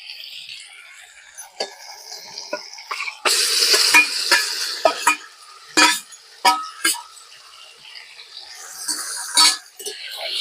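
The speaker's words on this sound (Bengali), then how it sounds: "মশলাটা কষানো হয়ে গেছে, এবার আমি মাংসটা দিয়ে দেবো।" Mutton pieces dropped into a pan of fried spice masala sizzle loudly, with bursts of frying hiss, stirring scrapes and metal clinks from a spoon against the pot, close and without talk.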